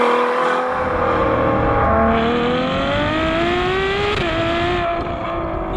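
A Ferrari Superfast sports car drives hard on a twisty back road, its engine droning loudly and steadily with pitch rising and falling through gear changes and corners, close and continuous throughout.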